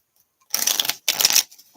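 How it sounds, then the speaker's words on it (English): Tarot cards shuffled by hand during a reading, two quick riffling bursts close by with a short pause between them, no talking. "One more shuffle"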